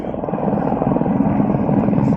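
A helicopter near Everest base camp makes a steady, loud, close rotor thrum with a fast rhythmic chop that stays constant throughout.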